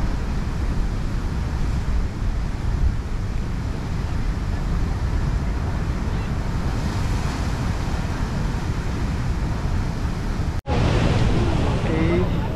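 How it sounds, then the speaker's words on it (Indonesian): Large waves breaking and surging at Batu Picah beach in North Biak, a steady loud roar of surf with wind buffeting the microphone, and a brief dropout near the end before the roar resumes. "Semakin sore semakin bagus untuk melihat ombak di sini. Jadi makin besar ya."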